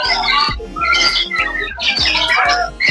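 Several captive birds at a safari park squawk and chirp in loud overlapping bursts close by, with a crowd in the background.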